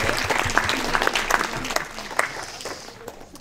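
Warm applause from a conference audience in a hall marking the ONAC centenary, steady clapping that fades slightly near the end, close and lively without speech over it.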